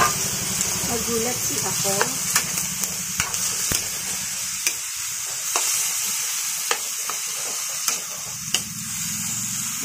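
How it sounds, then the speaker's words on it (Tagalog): Ground pork frying in a pan with tomatoes, a steady close sizzle throughout with repeated sharp spoon taps and scrapes against the pan, while a person speaks briefly over it. "lagay na natin guys ang giniling"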